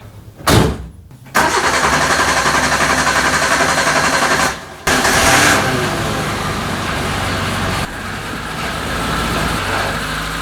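A Suzuki Samurai engine in a garage cranks and catches, then runs at a steady, close, loud idle, dropping out briefly midway before restarting and settling into a smooth running drone.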